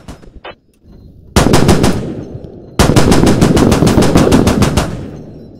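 Machine gun fire in a multiplayer war game comes in two long, loud bursts of rapid, evenly spaced shots, close and alone after a quiet start.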